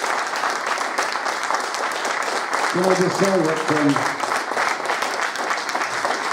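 An expo crowd gives a retro gaming figure a big round of applause at Play Expo Blackpool, steady clapping throughout while someone speaks briefly over it partway through.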